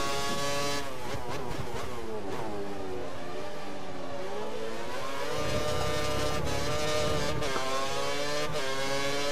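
A Formula 1 race car in the racing game F1 2013 screams through rising gear shifts, its high-pitched engine climbing in pitch, dipping and revving up again loudly and close throughout.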